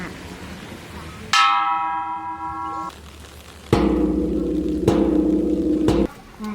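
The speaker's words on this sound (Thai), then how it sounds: "ที่หน้าโบสถ์จะมีระฆังและคล้องใหญ่ค่ะ" A large bell at a Thai temple is struck once with a bright ringing tone that decays slowly, followed by a deeper, heavier strike of a big gong or bell humming steadily nearby.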